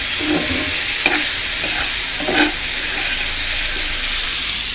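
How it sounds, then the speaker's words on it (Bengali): Vegetable bhaji sizzling steadily in a pan while being stirred, with salt and turmeric being added; a continuous frying hiss with a few soft scraping stirs, close and moderately loud, no talking. "ভাজিটা প্রায় করা শেষ, লবণ আর হলুদ দিয়ে দিচ্ছি।"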